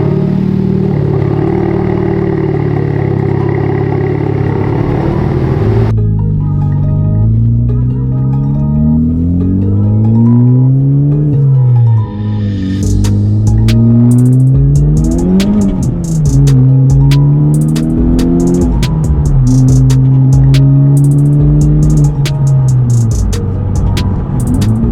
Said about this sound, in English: this is actually gonna be the first drive of the white Type R ever